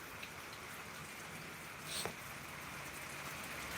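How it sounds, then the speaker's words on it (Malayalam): Heavy rain falling steadily as a constant hiss of drops, fairly quiet and distant, with one brief louder splash or knock midway. "മഴ ഇവിടെ ഉഗ്രൻ മഴ ഉഗ്രൻ മഴ"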